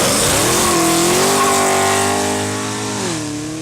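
Hennessey-tuned 700 hp supercharged Camaro ZL1 with the LSA engine, revving loud and close: a rising, sustained engine note that holds, then eases and climbs again as the car pulls away, with no talking.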